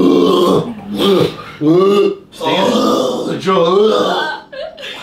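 Several long, loud burps erupt one after another, close and drawn out, with grunting tones and people talking around them.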